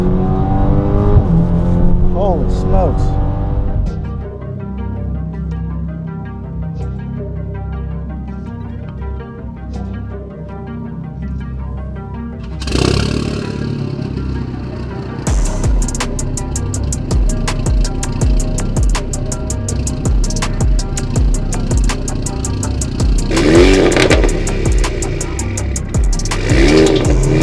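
Alfa Romeo Giulia 2.0T fitted with a hybrid turbo accelerating hard from inside the car, engine revving up through gears with a surge midway, loud throughout, with a man exclaiming over it.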